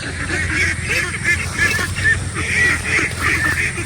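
A flock of ducks on a farm pond quacks and honks continuously at close range, overlapping calls forming a loud, busy chorus.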